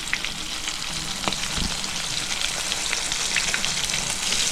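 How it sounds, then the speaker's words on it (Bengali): Pangas fish fries in hot oil with a steady, dense crackling sizzle that runs the whole time, loud and close, with a brief low thump partway through and no voices. "মাছটা আমি লাল করে ভেজে নেব।"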